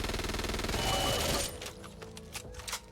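Kriss Vector submachine gun in Back 4 Blood fires a rapid, loud burst for about a second and a half, then quieter scattered shots and clatter follow.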